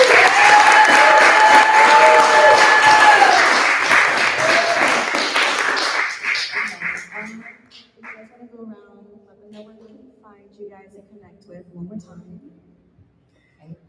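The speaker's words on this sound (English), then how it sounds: "one big round of applause for them one more time." A full audience round of applause at a community event rings out loud and steady for about six seconds, then tapers off into scattered claps while a voice starts talking over the fading sound.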